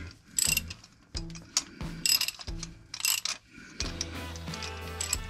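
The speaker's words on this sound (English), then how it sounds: "So I'm gonna use an oil filter wrench to" An oil filter wrench works the oil filter loose on a Ford Focus ST, giving repeated close ratcheting clicks in short bursts, then a longer grinding turn.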